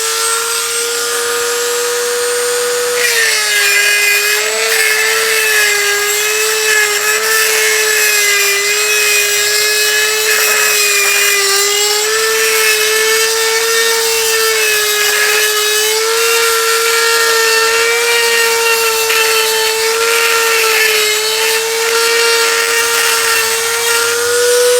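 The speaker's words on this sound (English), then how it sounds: "That Dremel you just saw is the second one I've killed." A Dremel rotary tool grinds continuously and loudly at a steady high-pitched whine, cutting away a stuck, over-tightened locking wheel nut on a car wheel. The pitch shifts slightly as the load changes, with no voices.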